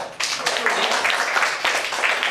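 Students in a school classroom clap for a classmate, a dense, steady burst of many hands that starts abruptly and carries on fairly loud to the end.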